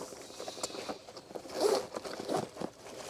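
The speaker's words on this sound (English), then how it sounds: "Okay, so you got double zippers here." Double zippers are pulled open on a Maxpedition Falcon-II backpack, giving soft, close, scratchy zipping rasps that rise briefly in the middle.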